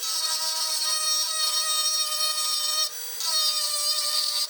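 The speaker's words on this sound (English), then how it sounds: "I've got a small rotary burr on a Dremel tool, and I'm just going to bevel out this real carefully." A small rotary burr on a Dremel tool grinds a bevel into a crack in an exhaust manifold, a high steady whine that dips briefly midway and then resumes, close and alone.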